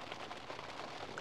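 Rain falling at night outside a wild camping tent, a faint, steady, even patter with no voices.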